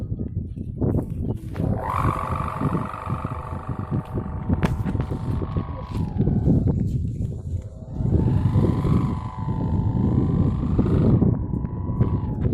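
A wavering, nasal buzz from a hummer on a small kite rises and falls with the gusts, over constant heavy wind rumble.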